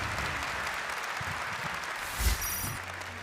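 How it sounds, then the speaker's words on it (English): Crowd applause for the winner of a GT World Series racing final, a steady moderate clapping wash held over the whole stretch with a brief louder thump midway. "Let's give him a round of applause"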